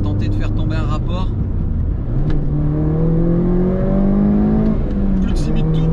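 A stock Mini GP car's engine revs up and drops through a downshift, rising and falling tones sweeping close inside the cabin, with a voice talking over the start.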